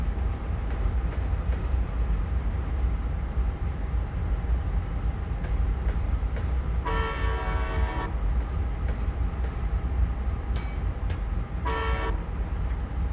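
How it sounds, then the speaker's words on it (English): In a train simulator, continuous rumble of a C&O U30C diesel locomotive underneath two blasts of its horn, the first longer, the second shorter, fairly loud over the running noise. "You've got quite nice control over the horn, so you can make it sound correctly."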